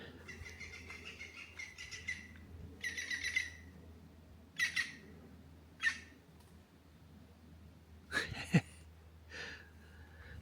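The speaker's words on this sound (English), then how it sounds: "green woodpecker calling." A green woodpecker calls outdoors around Ventnor on the Isle of Wight, with several bright bursts of calling spread across the clip over low background rumble, moderately distant.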